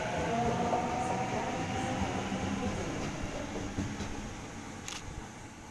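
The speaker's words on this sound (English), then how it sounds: "A78, now departing." A Sydney train pulling out of a station gives a close, steady rumble of wheels and motors that slowly fades as it moves off, with a faint high squeal near the end.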